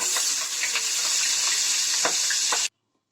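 Blended spice paste hitting about 100 ml of hot oil, frying with a loud, steady sizzle and occasional stirring clinks close up for over two seconds before cutting to silence.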